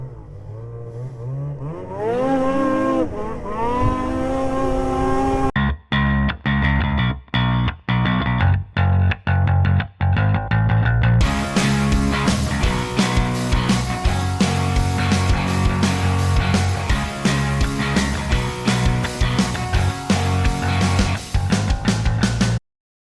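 A Lynx Rave 3500 snowmobile runs with a loud, continuous engine roar that rises and drops in pitch as the rider works the throttle, with no talking over it.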